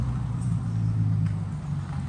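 A neighbor's car rolls past outdoors, a steady low engine rumble and road noise holding at moderate, close range for the whole moment, with no talking.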